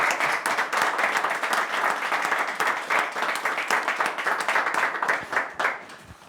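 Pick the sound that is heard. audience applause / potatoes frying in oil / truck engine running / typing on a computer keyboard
audience applause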